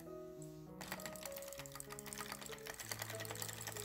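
Knitting machine carriage knitting rows for sock ribbing with the needles held for the ribber, a soft rhythmic clattering and sliding under faint music tones.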